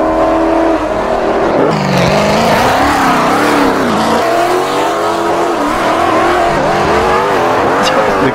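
A very loud car engine in the Roblox video game revs and roars continuously, its pitch rising and falling through repeated throttle sweeps, with a faint tire squeal and no clear talk over it.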